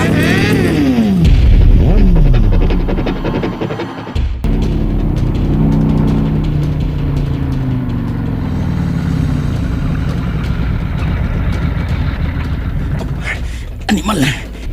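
A loud motorcycle engine revs and roars up close, its pitch rising and sliding, with heavy rumbling and mixed engine noise over a busy action scene, under shouting voices.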